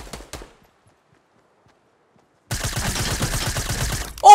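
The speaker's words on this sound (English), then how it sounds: "I saw you firing" Gunfire in Fortnite, heard as a short pair of shots at the start, then silence, then a long rapid burst of automatic fire with close, sharp reports, ending in a brief louder noise.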